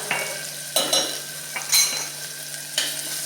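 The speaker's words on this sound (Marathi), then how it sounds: "बारीक चिरून घेतलेला कांदा हे आपण मिक्स करून घेऊया" Finely chopped onion with ginger-garlic paste frying in a pan for misal, stirred with a spoon in several scraping strokes over a continuous close sizzle, with no talking.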